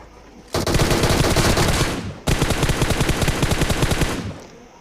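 Rapid automatic gunfire rings out in PUBG, two long sustained bursts of loud, tightly spaced shots split by a brief pause.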